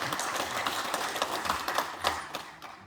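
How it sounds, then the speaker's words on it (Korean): Applause from a lecture audience in a cultural hall, a soft, dense patter of many hands clapping at a distance, fairly even throughout with no voices over it. "박수 부탁드립니다."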